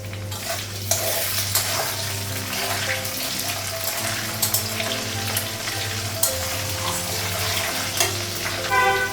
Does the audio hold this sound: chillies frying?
yes